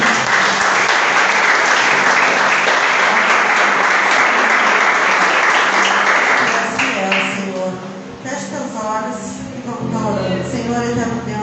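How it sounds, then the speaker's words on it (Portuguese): Congregation applause during an evening youth church service, a dense steady wash of clapping that thins and fades after several seconds as voices and speech come through. "Aplaude o Senhor porque Ele é digno."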